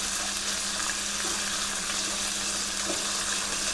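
Garlic and bacon frying in a pan for creamy spaghetti, a steady, even crackling hiss with a faint low hum throughout and no clear stirring strokes.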